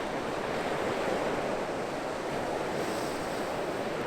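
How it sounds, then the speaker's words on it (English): Ocean waves wash steadily onto the shore in a continuous, close surf roar with no breaks and no voices. "So listen to the waves."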